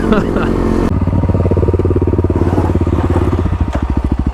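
Kawasaki KLX351 dirt bikes drag racing on a gravel road roar close by, the engine revving hard and then settling into a rapid pulsing throb.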